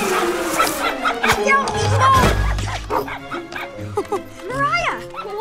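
A puppy yips and whimpers in short bursts amid music and other sounds, with a few brief high barks standing out near the end.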